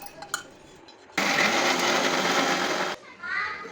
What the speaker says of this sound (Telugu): మిక్సీ తీసుకొని అందులో ఆనియన్స్, చిల్లీ, అల్లం, వెల్లుల్లి వేసి గ్రైండ్ చేయండి.